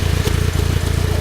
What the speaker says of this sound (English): It's kind of cold outside, so the exhaust is a little puffy, but that's normal.